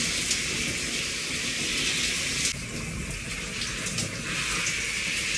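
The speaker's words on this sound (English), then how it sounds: "you're going to wash it out with that cold water, but you want to leave your do-rag on to do so" Cold tap water pours steadily over hair covered by a do-rag, a continuous broad rushing splash that shifts slightly as the head moves under the stream, close and fairly loud.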